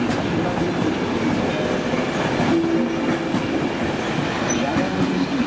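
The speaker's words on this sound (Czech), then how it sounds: "Osobní vlak číslo 2018 společnosti České dráhy" A Czech Railways passenger train rumbles through Praha-Vršovice station, a continuous loud, close roll of wheels on rails with faint clatter and a brief squeal partway through.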